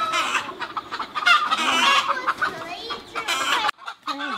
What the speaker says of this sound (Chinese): 今天的小鸡又下了不少蛋，